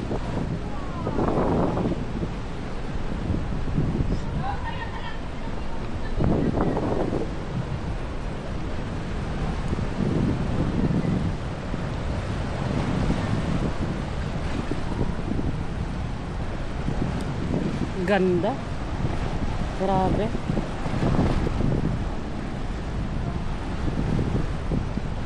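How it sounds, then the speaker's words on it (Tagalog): Rough waves surge and crash against a rocky coastline during coasteering at Po Pin Chau, with heavy wind buffeting the microphone in a constant roar, while people speak briefly over the noise. "Pero galit na galit yung alon."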